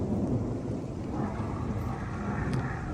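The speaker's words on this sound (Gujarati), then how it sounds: "સમગ્ર ગુજરાતની અંદર ધોધમાર વરસાદ વરસી રહ્યો છે" Torrential cloudburst rain over Patan, Gujarat, roaring as a dense, constant wash with low thunder rumbling beneath it, loud and close throughout with no pauses.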